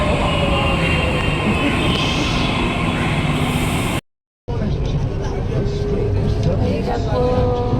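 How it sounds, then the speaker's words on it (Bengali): A metro train entering the station with a loud, continuous rumble and rail roar close by, cut by a brief silent gap, then resuming with rattling and screeching; a voice talks over it. "মেট্রো এন্ট্রি নিচ্ছে, মেট্রো এন্ট্রি নিচ্ছে"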